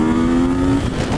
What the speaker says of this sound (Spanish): cuando le aceleré se escuchó un corte en la inyección